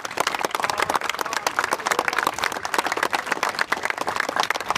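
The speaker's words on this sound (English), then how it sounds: "So give them the round of applause." An audience applauding staff and volunteers at a suicide awareness event, a dense, steady round of hand clapping close to the mic, with no one talking over it.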